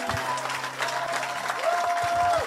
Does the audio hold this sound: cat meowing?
no